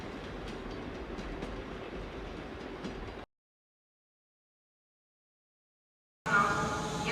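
Train rolling through Katowice station with broadband rail rumble and faint clacking, steady and fairly close, cut by a stretch of silence before the rumble resumes abruptly near the end.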